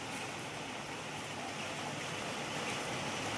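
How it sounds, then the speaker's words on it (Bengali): Heavy rain pours down outdoors in a steady, dense hiss that stays constant and unbroken throughout, with no voices over it. "বাইরে এখনো ঝমঝমিয়ে বৃষ্টি পড়ে যাচ্ছে, থামার কোনো পাত্তা নেই।"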